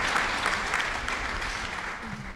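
Audience applause at a university student thesis defence session, a steady, even wash of clapping from a room full of people that holds throughout.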